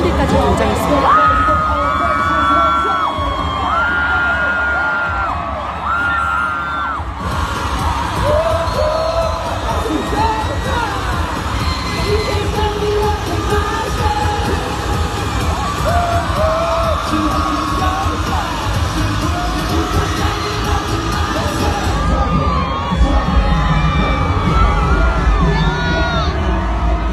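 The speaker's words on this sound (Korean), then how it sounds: "멤버들이 가까이 지나가자 여성 팬들의 비명이 엄청나게 터졌는데요" Female fans at a concert in Las Vegas scream and cheer nonstop, a loud, dense crowd roar of high shrieks and yells that swells in waves and never drops out for the full length.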